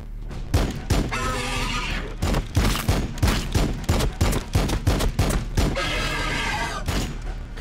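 Rapid bursts of gunfire crackle in irregular volleys, loud and close, with game-style effects between the shots and no talking, from the video game Warhammer 40k Battlesector.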